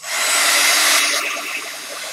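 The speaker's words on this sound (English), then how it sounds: "Dryer again, so be warned." A steady, loud whooshing hum of a dryer blowing continuously, the airflow tone shifting slightly partway through.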